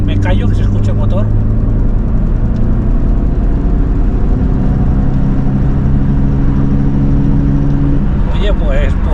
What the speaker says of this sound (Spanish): me callo que se escuche el motor